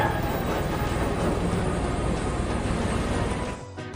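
Cartoon tank engine Thomas pulling coaches Annie and Clarabel, brought to a halt with the handbrake on hard: a loud, steady rumble of rolling train that fades and drops away at the end as it stops.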